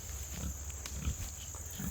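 Pigs in a paddock give a few faint, low grunts spread over a couple of seconds against a steady outdoor hum and a high whine.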